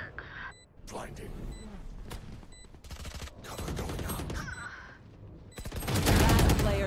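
Gunfire in the Valorant video game, bursts of rapid shots and single cracks scattered across the clip, loud and close, with a heavy barrage near the end, while someone talks over it.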